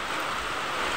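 Dense, steady hiss of heavy rain pouring down, constant and loud with no pauses and no voices.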